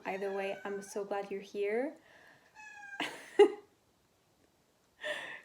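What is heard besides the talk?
cat meowing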